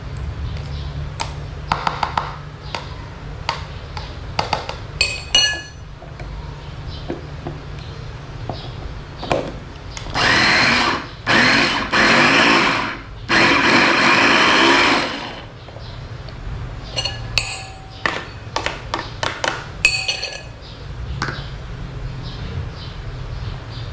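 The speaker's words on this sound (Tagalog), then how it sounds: "Haluin natin para mag-grind lahat, maging minced garlic siya." An electric blender or grinder whirs in loud bursts while grinding garlic into minced garlic for sili oil, with scattered taps and clatter around the bursts.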